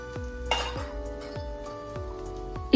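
A spoon clinks against a pan while stirring mango pieces with onions, curry leaves and salt, giving a few sharp metallic taps spaced about every half second, close up and fairly loud, with a light sizzle underneath.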